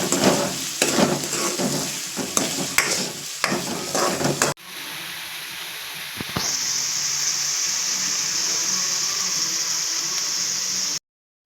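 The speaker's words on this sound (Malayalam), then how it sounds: "അപ്പോൾ ഏകദേശം ഇതാ നമ്മളെ സവാള നല്ല രീതിയിലൊന്ന് വഴണ്ട് വന്നിട്ടുണ്ട്." Sliced onions, salted, sautéing in a pan for cauliflower masala: a few seconds of scraping stirring strokes, then a steady close sizzle and hiss that runs on evenly before cutting off.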